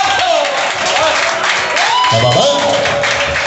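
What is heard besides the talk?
audience applause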